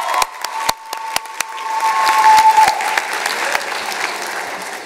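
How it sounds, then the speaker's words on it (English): Audience applause at an achievement celebration ceremony, with a few sharp claps at first that swell into a loud, sustained round of clapping from the crowd, heard close and without talk. "Let's give them all a round."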